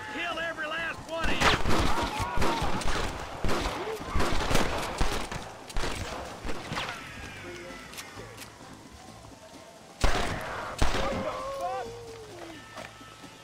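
Gunfire crackles through a gang war in the Red Dead Redemption video game, with repeated sharp shots and bursts, some in quick clusters, while a player talks over the action.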